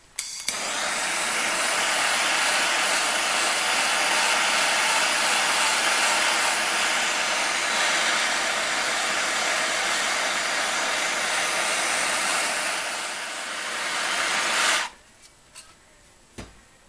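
A heat gun runs steadily for about fifteen seconds, blasting hot air at the kingpin of a Datsun truck, a loud, even broadband whoosh that cuts off abruptly, followed by a few faint clicks.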